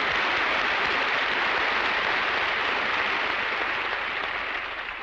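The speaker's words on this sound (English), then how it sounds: "And I applaud you." Audience applause at a live show with Frank Sinatra, Dean Martin and Sammy Davis Jr., a steady, dense wash of clapping held at full strength throughout and easing slightly near the end, without talk.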